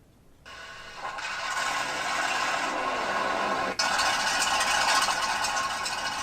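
A model tank's electronic two-channel sound unit plays an engine start, then a steady running rumble with rattly, noisy texture, close and fairly loud, with a brief dip partway before the engine sound continues.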